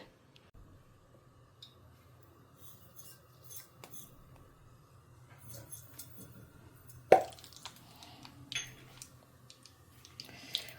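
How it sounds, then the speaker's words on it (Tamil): Mustard seeds dropped into hot sesame oil in pans give faint, quiet sizzling with scattered small pops, plus one sharp louder crackle partway through, heard close in a quiet kitchen. "ரெண்டு எண்ணெயும் சுட்ட கையோடு கொஞ்சம் கடுகு போட்டுக்கலாம்"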